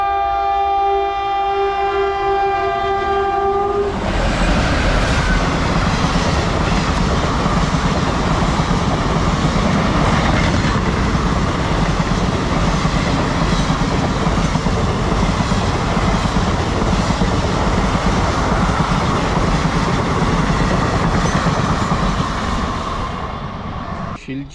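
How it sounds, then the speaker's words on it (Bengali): A passenger train sounds a loud multi-tone horn at the start, then runs close by on the rails with a long, heavy rumble and rhythmic wheel clatter that fades slightly at the end. "এবার ট্রেন ধরে যাব শিলিগুড়ি।"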